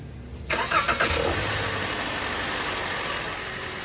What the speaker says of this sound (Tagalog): Kaya pa-start ko na itong makina para makita natin.